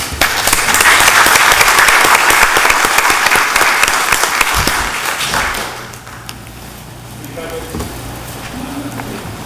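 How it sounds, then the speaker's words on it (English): A room applauds at the close of a meeting, dense clapping that stays strong for several seconds before tapering off into quieter room noise. "Let's give him a round of applause"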